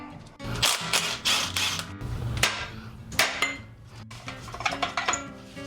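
Metallic clanks and knocks of a brake caliper being pulled off a Jeep front axle during a repair, a quick run of sharp strikes and rattles followed by scattered lighter taps, close up with no talking.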